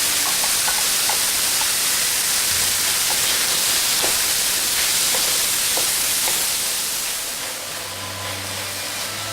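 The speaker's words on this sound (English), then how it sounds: "We are adding Chinese mustard green to cook for 2 minutes" Chinese mustard greens cooking with shrimp in a hot pan, a steady loud sizzle and hiss throughout with faint clicks, easing slightly toward the end.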